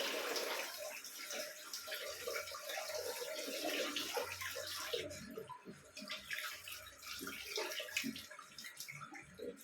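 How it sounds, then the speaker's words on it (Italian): Tap water runs into a sink while someone rinses their face, a continuous close splashing with uneven gurgles and drips, fairly quiet and with no talking. "Vado a sciacquarmi un attimo il viso."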